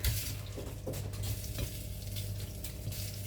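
Meat sizzling in hot oil in a pan, a steady close crackle with light clinks of utensils and pan, no talking.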